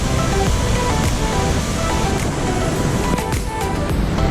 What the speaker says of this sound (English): From all the water cascading over the edge.